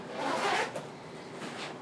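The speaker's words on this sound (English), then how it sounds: "So I just look for the handy dandy zipper." Zipper on a convertible travel backpack pulled open in a long close rasping run, then a shorter second pull, no talking.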